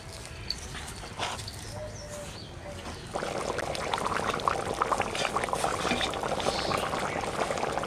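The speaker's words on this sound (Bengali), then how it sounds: "তারপরে অল্প অল্প জল দেবো।" Water is added a little at a time to village-style potato curry with peas. A soft, steady pour and sizzle begins partway through and keeps going, with a faint voice at times.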